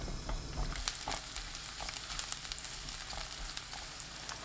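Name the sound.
garlic slices frying in olive oil in a pan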